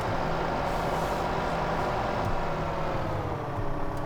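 A heavy tractor engine in the video game Farming Simulator 2015 drones steadily and loudly at close range, a continuous low rumble with a faint mechanical whine above it.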